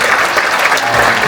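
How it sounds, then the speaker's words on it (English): An audience applauds at a live event, the clapping loud and steady throughout with crowd noise mixed in. "You can give him a round of applause."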